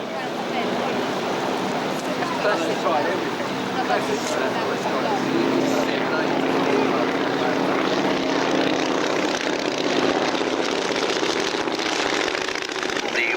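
A steady, droning engine hum of a comparatively heavy propeller aeroplane flying at the 1988 Biggin Hill Airshow, continuous and fairly loud with no clear breaks, with a voice speaking over it.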